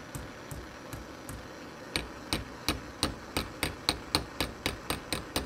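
A steel mainspring for an 1812 Springfield musket is hammered into a bend on an anvil, sharp metallic hammer blows striking alone, starting sparse and then settling into a fast, steady rhythm of close, ringing strikes.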